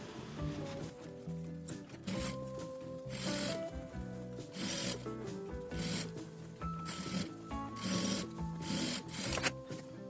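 Sewing machine topstitching around the edge of a fabric pouch, its needle running in short bursts separated by pauses, with soft fabric rustling, quiet and close.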